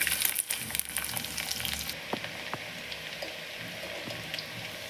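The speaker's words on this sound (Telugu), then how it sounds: "ఉల్లిపాయ వేగిపోయింది" Onion and green chilies frying in a pan, a steady close sizzle with occasional spatters and a few soft stirring knocks, no voices.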